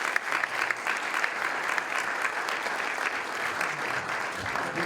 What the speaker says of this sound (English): could you put your hands together and give him a round of applause as he comes to the stage?